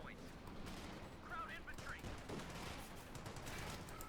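Browning Automatic Rifle (BAR) fire in the WWII strategy game Company of Heroes 2, heard as repeated sharp bursts of automatic gunfire set against continuous battle noise.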